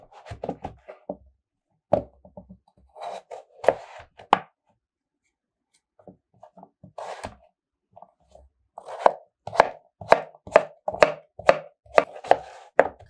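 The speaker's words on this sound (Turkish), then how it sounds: "Küçük küçük parçalar halinde doğrayacağım." A knife chops through firm pumpkin on a cutting board in short bursts, then settles into a quicker, steady rhythm of sharp thuds.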